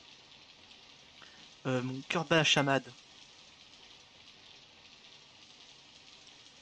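Steady rain hisses faintly through a scene in the video game Sakura Wars, a soft broadband patter running the whole time while a voice speaks briefly in the middle.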